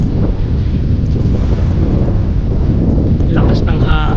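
Loud, blustery wind roaring across the microphone in heavy continuous buffeting while cycling in Canada, with a voice faintly audible near the end.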